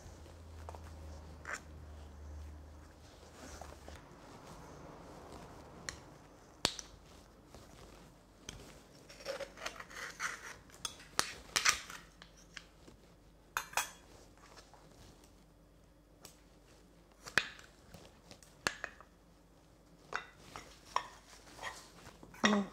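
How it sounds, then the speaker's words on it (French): A spoon scrapes set foie gras fat off the surface of a terrine press, making a quiet series of close, uneven metallic scrapes and clinks spread over a long stretch with brief pauses. "l'idée, c'est de retirer la graisse et de la faire fondre. À l'aide d'une cuillère."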